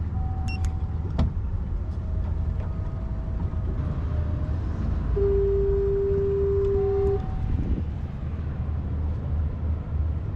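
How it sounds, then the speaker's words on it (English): A boat's trolling motor engaging during a fall fishing trip off Virginia Beach: a low, steady hull hum with a clear electric whine that rises in for a few seconds, then drops away. "engage trolling motor, please."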